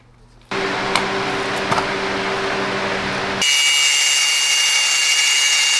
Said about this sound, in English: We're gonna go ahead and take it to the angle grinder.